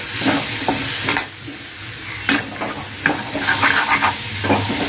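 A spiced potato vegetable dish is stirred in a hot pan, loud continuous sizzling broken by repeated scraping strokes of the spoon at an uneven rhythm.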